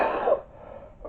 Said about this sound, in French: Pardon, là je suis piégé par ma toux.